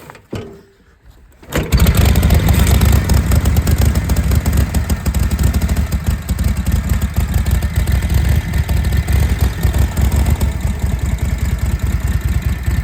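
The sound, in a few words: Harley-Davidson 1949 WL flathead motorcycle engine idling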